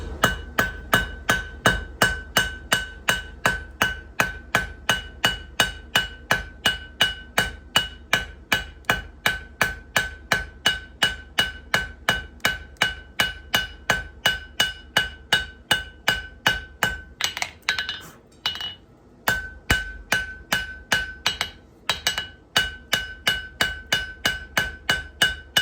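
Blacksmith with a cross peen hammer flaring out a small forged axe pendant, ringing metallic blows in a fast steady rhythm, close and loud, with a brief pause midway before the hammering resumes.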